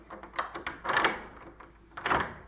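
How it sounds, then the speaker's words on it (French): Old wooden tower door with a rusty key in its lock bursting open, a series of close, heavy knocking and scraping thuds with creaks between. "La porte s'ouvrit brusquement."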